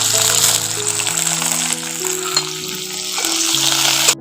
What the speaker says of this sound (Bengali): তেলের মধ্যে রসুন দিয়ে দিচ্ছি গোটা রসুন আর আদা দিয়ে দিচ্ছি আর এই কাঁচা লঙ্কাগুলো এর মধ্যে দিয়ে একটু ভেজে নেব